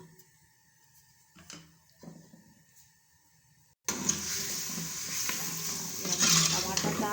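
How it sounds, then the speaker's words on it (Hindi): Tomatoes drop into a hot pan of oil with turmeric for a potato and mince curry. A few soft clinks come first, then a loud, steady sizzle bursts in and continues close up, with faint stirring scrapes. "अभी इसमें हम टमाटर डालने लगे"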